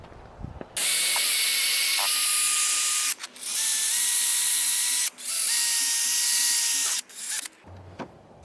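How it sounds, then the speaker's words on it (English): A handheld sanding wheel fitted with 500 grit paper whirs at high speed against a car headlight lens, running in three long steady bursts with brief pauses between, loud and close. "Let's get going with the sanding. Start off with the 500 grit."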